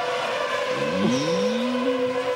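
A 2007 Formula 1 car pulls out of the pits at the Hungarian Grand Prix, its high engine whine rising and sliding in pitch as it accelerates, heard through steady broadcast background noise.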